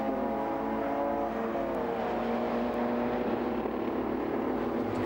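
BMW race cars race at Lydden Hill, their engines whining with rising and falling revs as they pass, a continuous mid-distance roar with no talk.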